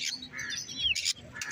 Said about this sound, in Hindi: ये कितना प्यारा तोता है जी माशाल्लाह